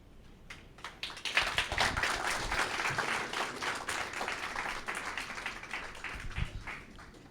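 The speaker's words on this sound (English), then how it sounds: "Another round of applause for the collective team" Audience at a live customer-education event breaking into applause for the team, the clapping rising quickly from quiet, holding dense and steady at moderate distance, then tapering slightly.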